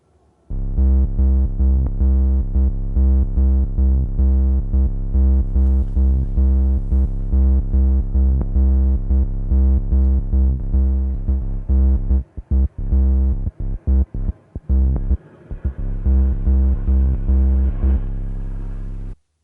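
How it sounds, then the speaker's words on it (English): A Korg Volca Modular synthesizer's very low-frequency sine wave, a low buzzing tone throbbing in rapid regular pulses, then stuttering and breaking up briefly before settling into a steady drone, loud and alone. "So we get a very low frequency sine wave"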